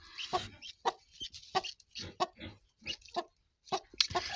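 A broody hen clucks and calls in a series of about a dozen short, close, distinct clucks with brief pauses between them, with no voices over them.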